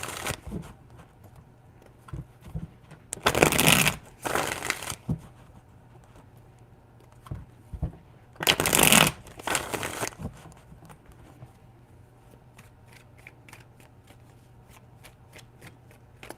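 A deck of tarot cards shuffled in two loud riffling bursts separated by quieter handling, the close, crisp card flutter standing out against near silence with no talk.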